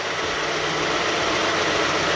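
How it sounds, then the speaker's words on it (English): A Mazda CX-9 with a misfire idles roughly, its engine a steady, close low rumble with continuous vibration throughout and no other sounds. "When the engine warms up, that thing starts vibrating like really bad."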